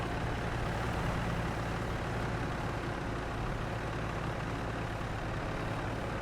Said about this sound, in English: the engine noise sounds like it needs a different gear. It sounds too low on the revs.